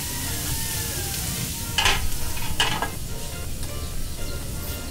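Squid being stir-fried in a pan, a continuous close sizzle with two louder bursts of spatula scraping and clinking against the pan, no voices.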